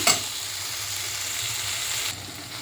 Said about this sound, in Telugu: ఇంకా ఇటు పచ్చడి అయితే మగ్గుతూ ఉంది బాగా మగ్గిపోనిద్దాము